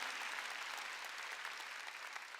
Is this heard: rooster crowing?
no